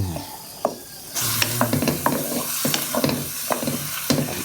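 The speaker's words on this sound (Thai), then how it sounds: "ตอนน้ำเราใกล้แห้งเรา คน คนตลอดเลยนะคะ เพื่อไม่ให้กุ้งเคียงเราไหม้นะคะ" Chinese sausage is stirred in a pan as the cooking water dries off, with a soft bubbling that jumps to a louder sizzle, punctuated by repeated scraping and clattering strokes of the utensil.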